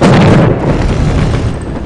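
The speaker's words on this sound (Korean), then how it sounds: "여기 TNT 한번 터뜨려볼까?" A TNT blast in the Evil Genius video game, a loud sustained boom with a dense roaring rumble that stays heavy for nearly two seconds, with no voices over it.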